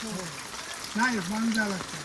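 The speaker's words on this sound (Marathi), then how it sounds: "चांगलाच पाऊस आहे" Steady monsoon rain falls over a village in the Sahyadri hills, a soft continuous hiss running beneath people talking close by.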